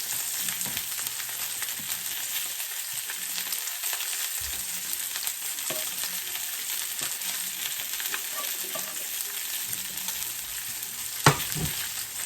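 Sliced potatoes sizzle steadily in hot grease in a home kitchen, a dense continuous crackle with a few sharper pops and light clinks of a utensil, no voices over it.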